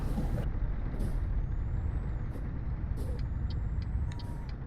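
Repeated hissing bursts of truck air brakes in Euro Truck Simulator 2 multiplayer, several sharp releases spaced over a steady low engine drone, with faint tonal beeps.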